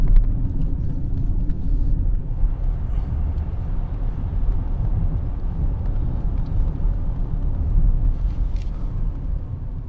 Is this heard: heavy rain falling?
no